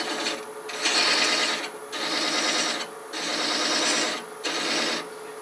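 A lathe running at close to 500 rpm while a thread is hand chased: a steady mechanical whir with repeated rasping cutting strokes about a second long, separated by brief lulls.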